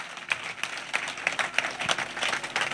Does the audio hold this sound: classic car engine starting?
no